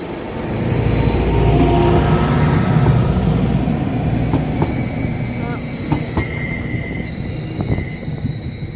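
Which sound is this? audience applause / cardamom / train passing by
train passing by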